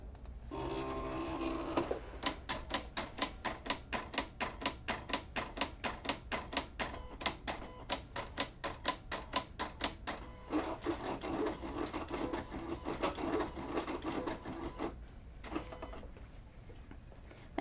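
Craft cutting machine making a test cut for rhinestone decals, producing a fast regular ticking of carriage movements followed by a softer whirring stretch, close and fairly quiet.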